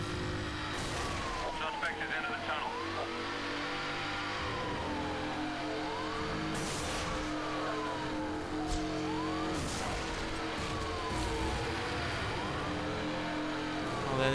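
A high-speed police chase in the video game Need for Speed: Hot Pursuit, with steady roaring car engines and a wailing police siren that sweeps up and down in repeated cycles, loud and continuous throughout.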